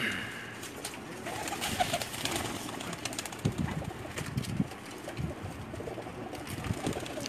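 Pakistani teddy pigeons cooing softly in a noisy outdoor setting, with scattered low coos and some wing flutters over a steady background hiss.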